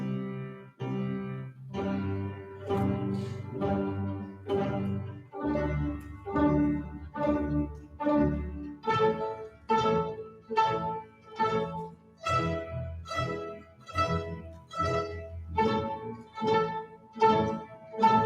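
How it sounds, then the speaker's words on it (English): A student orchestra plucks open strings pizzicato in a daily warm-up, rounds of soft plucked notes, first low and sustained, then a steady pulse of repeated plucks, ensemble sound in a room without voices. "we learned how to pizzicato, or pluck with our fingers, on our open strings in this daily warm-up"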